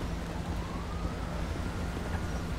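A Grand Theft Auto V police car siren wails steadily beneath a dense rumble of traffic and wind, its rising and falling tone faint and somewhat distant throughout.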